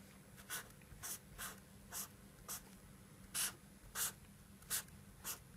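Short scratchy strokes of a small pen marking values onto a drawing, about ten quick separate scribbles in an uneven rhythm, close up and fairly quiet.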